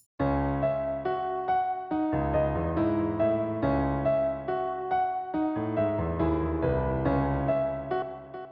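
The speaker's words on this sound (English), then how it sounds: "I'm using the grand piano from Ableton and I'm EQing it a little bit" Ableton grand piano plays a flowing, EQ'd melody over low chords, notes ringing into a soft reverberant wash with faint delay repeats, fading at the end.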